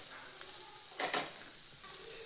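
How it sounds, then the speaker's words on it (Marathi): A spoon stirs vegetable stems mixed with crushed peanut and garlic in a hot pan, giving a soft sizzling hiss with a few scraping bursts of stirring, close and quiet, with no speech. "शेंगदाण्याचा कूट छान घेऊयात मिक्स करून।"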